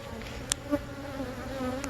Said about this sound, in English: And you see the little worker bees all over the place.